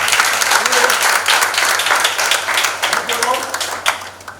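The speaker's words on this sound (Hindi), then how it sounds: "ताली बजा दीजिए।" An audience at a nursing college event breaks into lively applause, many hands clapping together close by for several seconds, with some voices mixed into the crowd sound.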